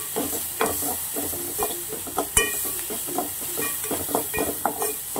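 Onions sautéing in a pan for onion egg Maggi noodles, a light sizzle with frequent spatula scrapes and taps against the pan, up close with no voices.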